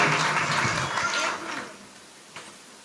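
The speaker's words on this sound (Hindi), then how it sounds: "एक बार मेहर साहब के जोरदार तालियां बजा दीजिए" Loud applause from an audience at a Rotary Club bicycle distribution event in Rudrapur, honoring the mayor, a dense burst of clapping that fades out by the middle with one late clap near the end.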